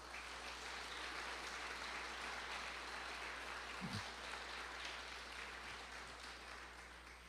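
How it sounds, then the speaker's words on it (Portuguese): A church congregation claps hands together, a faint, even wash of many hands that holds steady throughout with no speech over it. "Bate palmas para Jesus."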